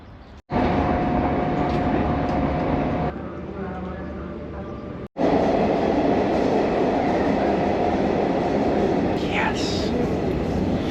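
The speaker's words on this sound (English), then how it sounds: "we're about to get on a train." Steady rumble of a moving train interior, continuous and loud, with brief cuts in the sound and a faint higher squeal near the end.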